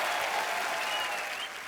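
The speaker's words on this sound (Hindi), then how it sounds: "एक बार जोरदार तालियां हो जाए" Enthusiastic studio audience applause on a TV comedy talk show, a dense wash of clapping that holds steady and then tapers slightly at the end.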